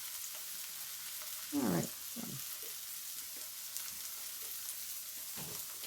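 Slices of bologna fry in a hot pan with a steady, close sizzle running throughout, while a voice briefly speaks over it.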